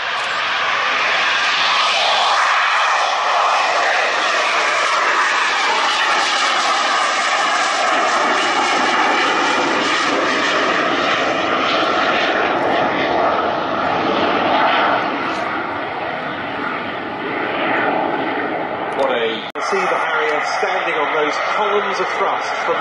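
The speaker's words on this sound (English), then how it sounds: "Columns of thrust from the Rolls-Royce Pegasus." A V/STOL combat jet powered by a Rolls-Royce Pegasus engine performs at the Royal International Air Tattoo 2024, a loud continuous roaring thrust that holds steady, then shifts in tone near the end, heard alone at close range.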